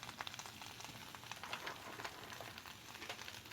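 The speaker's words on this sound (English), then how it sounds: "That's going to help fry up our veggies." Veggies and bean sprouts frying in a pan for homemade chow mein, a steady, quiet sizzle and crackle with soft stirring sounds, no voices over it.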